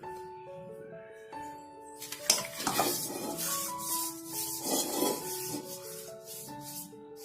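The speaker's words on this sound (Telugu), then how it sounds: "అల్యూమినియం కడాయి తీసుకొని దాంట్లో కొంచెం ఆయిల్ వేసుకొని కడాయికి మొత్తం పూయండి" Oil is rubbed all around the inside of an aluminium kadai, including the edges, making soft scraping and rubbing strokes that come and go over several seconds beneath quiet background music.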